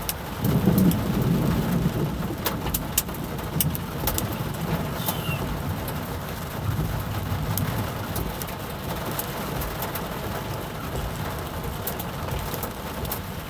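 A thunderstorm with steady rain and low rolling thunder, plus some sharp cracks, while birds chirp faintly in the background.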